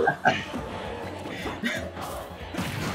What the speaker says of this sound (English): The best in-game crowd chant is now live?